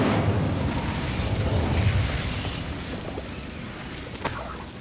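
Incendio fire spell cast in Hogwarts Legacy, a dense whooshing roar of flame with low rumble that fades over a few seconds, ending in a brief sharp pop.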